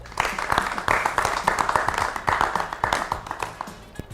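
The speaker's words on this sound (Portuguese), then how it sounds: "uma salva de palmas" Audience applause at a tourism conference in Mozambique, steady dense clapping from a sizeable crowd throughout, fairly close and even, with no voices over it.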